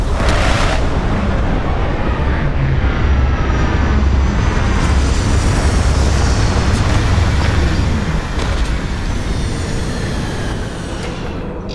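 Spaceship setting down in the video game Starfield: a loud, continuous engine roar with whining jet-like tones that holds steady throughout and eases slightly near the end, no voices.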